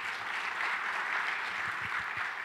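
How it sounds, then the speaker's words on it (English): An audience at a panel event gives a sustained round of applause, a steady wash of many hands clapping from start to finish. "give him a round of applause"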